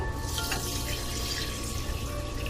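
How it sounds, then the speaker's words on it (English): Water pours steadily from a tap into a small pot holding half a cup of rice, a continuous close splashing stream over a low background hum. "Here's 1 1/3 cup of water."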